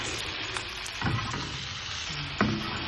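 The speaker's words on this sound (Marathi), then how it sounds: "कांदा मऊ गुलाबी होईपर्यंत परतून घ्यायचा आहे त्यानंतर बारीक केलेला टोमॅटो टाकून घ्यायचा आहे" Chopped onion and tomato sautéing in a pan, with a steady close sizzle and a few scraping stirs and clinks of a spoon, no voices.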